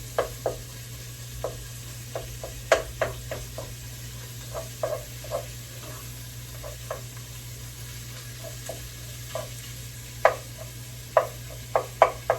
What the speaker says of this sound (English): you want to break up your ground beef as you're cooking it